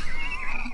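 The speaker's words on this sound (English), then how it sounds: "Wait, no, that's a donkey." A donkey brays in a single short, loud, close call with a tonal, neigh-like quality, lasting under a second.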